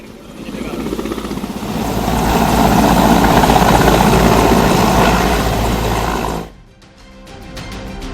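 A helicopter carrying exam papers with heavy security, its loud steady rotor and engine roar building and holding for several seconds before cutting off abruptly, followed by quieter background sound.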